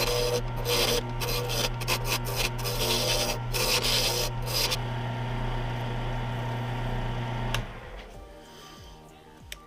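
A lathe whirs with a rough, scraping rasp as a tool cuts into a spinning wooden pen blank, then the cutting stops and a fainter motor hum remains.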